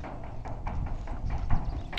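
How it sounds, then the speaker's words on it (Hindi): A mare walks calmly near the Narmada riverbank, her hooves clip-clopping in a quick, fairly regular series of soft, close knocks against a steady low rumble of background noise. "आप देख सकते हो पुल के ऊपर भी घोड़ी चलती आराम से"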